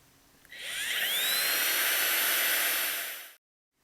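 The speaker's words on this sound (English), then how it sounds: "But right now I'm going to drill these holes." A drill bores holes in a dust collection trunk line pipe, a loud steady high whine that spins up, holds for about three seconds, then stops abruptly.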